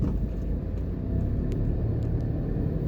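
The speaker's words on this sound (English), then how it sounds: "So this plaza is very busy," Road traffic around a busy shopping plaza in Portmore, Jamaica, a steady low rumble of passing cars with faint higher clicks above it, no voices.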